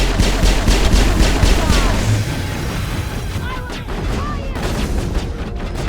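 Gunfire in the Mass Effect video game breaks out in a dense, loud barrage of overlapping shots and impacts for the first couple of seconds, then continues as sporadic firing and crashes with some shouted dialogue.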